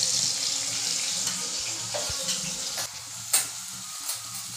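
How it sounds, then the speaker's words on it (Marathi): Onion added to browned garlic in hot oil crackles with a steady close sizzle, broken by a couple of sharp utensil clinks as it is stirred in the pan. "तेल गरम झाल्यामुळे लसूण लाल झालेलं आहे, त्याच्यासोबत कांदा टाकणार आणि कांदासुद्धा थोडा परतून घेणार,"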